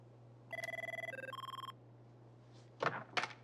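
Telephone ringing for a repeated call, a near electronic trilling ring of three quick tone bursts in about a second, followed by brief rustling knocks.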